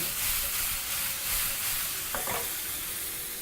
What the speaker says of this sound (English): So proceed to toss sauce in the pan.